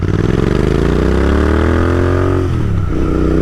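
A Royal Enfield Interceptor 650 fitted with S&S slip-on exhaust pipes accelerates hard, its loud, close parallel-twin engine note climbing steadily in pitch before a brief dip at a gear change.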